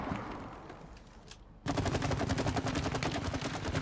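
Gunfire in the video game It Takes Two: after a quieter stretch, a sudden loud burst of rapid, evenly spaced automatic shots runs continuously to the end.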